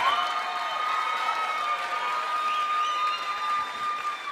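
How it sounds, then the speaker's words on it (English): Audience at a Dancing with the Stars–style charity dance show cheering and applauding for the dancers, with a steady wash of clapping and scattered whoops filling the hall for several seconds. "Ladies and gentlemen, give them a big round of applause."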